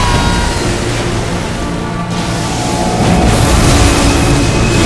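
A boss's explosive attack in Elden Ring erupts as a heavy, sustained rumbling boom, loud and dense, swelling again toward the end.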